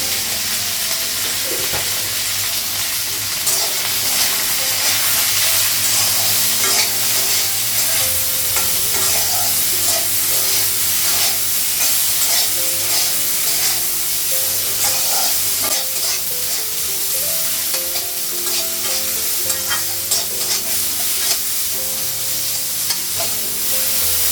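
Sliced bitter gourd fries in a pan with a loud, continuous sizzle and crackle, stirred now and then with scraping, close and steady for the whole stretch with no talk.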